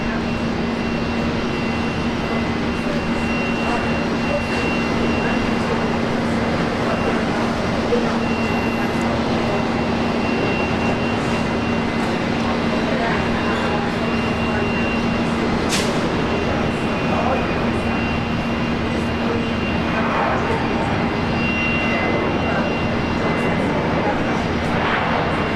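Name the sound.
Qantas Link Embraer E190 jet departing Brisbane Airport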